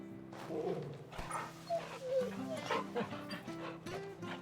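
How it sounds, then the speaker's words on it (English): A dog whimpers and yips in short, soft bursts while being rubbed, with steady background music from a video game playing underneath. "I haven't rubbed you in a while, doggo. Let's fix that."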